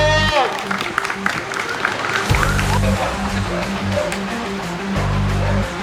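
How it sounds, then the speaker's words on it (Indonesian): Participants clap after a workplace fire evacuation drill, a sustained round of applause mixed with loud background music and some voices. "Kasih tepuk tangannya dulu."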